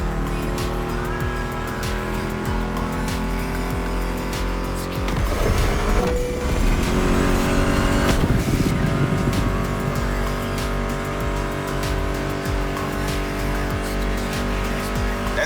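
Racing car engines roar steadily in The Crew Motorfest, with tires squealing and skidding midway and a soundtrack playing underneath throughout.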